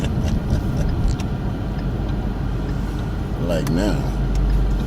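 A Ford Mustang Mach 1's engine runs steadily with a low, rumbling idle that stays close and fairly loud throughout, while someone speaks briefly over it.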